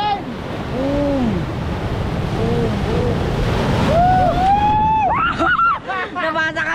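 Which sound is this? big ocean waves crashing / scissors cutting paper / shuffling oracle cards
big ocean waves crashing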